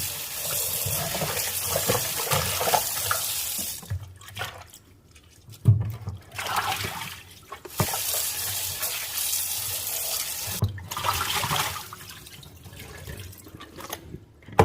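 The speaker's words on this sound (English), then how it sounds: "I will be scrubbing this. I'm going to soak it in water" Honeycomb beef tripe being scrubbed by hand under running tap water in a sink, with steady splashing and trickling broken by short pauses and wet handling sounds, close and fairly loud, no talking.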